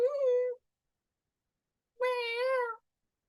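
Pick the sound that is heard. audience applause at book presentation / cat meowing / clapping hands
cat meowing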